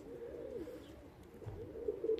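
English Tippler pigeons coo softly during morning training, low rolling calls repeating close by against a quiet outdoor background.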